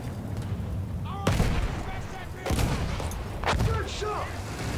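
Gunfire and heavy booms in the Battlefield 1 video game come in a few sharp bursts over a rumbling battlefield background, with a voice talking between the shots.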